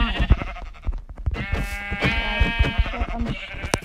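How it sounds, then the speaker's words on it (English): A sheep in the video game Minecraft bleats close by, a wavering bleat that rises over busy game noise with clicks and thumps. "Sheep. Oh, sheep! Hello, sheep."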